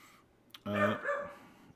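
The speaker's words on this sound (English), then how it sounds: "Oh, the dog." A single dog bark sounds once, mid-distance and moderately loud, in an otherwise quiet room.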